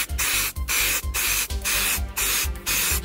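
An aerosol can sprays light coats of paint onto a 3D-printed life-size shield, several short repeated hissing bursts in quick rhythm, each separated by a brief pause, close and loud with no speech.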